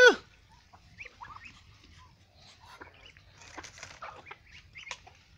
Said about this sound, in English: These ducklings.